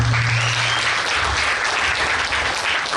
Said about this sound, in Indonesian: Sekali lagi aplaus dong